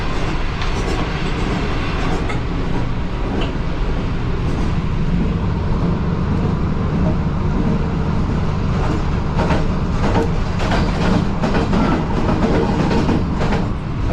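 Train running through Mandra station in Pakistan, heard from inside the guard's compartment as a steady loud rolling rumble with rhythmic clatter of wheels over rail joints throughout.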